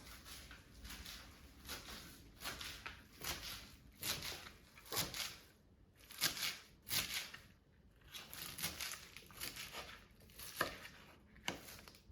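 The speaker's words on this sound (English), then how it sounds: "And I'm going to start by chopping the parsley." A knife chopping fresh parsley leaves on a cutting board, a quick, steady run of close, crisp taps with brief pauses, no talking.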